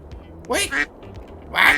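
A bird character in the Roblox game chirps in two short bright bursts, close and fairly loud, with quiet gaps between them and no talk.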